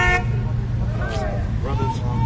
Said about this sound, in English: That's honks of support.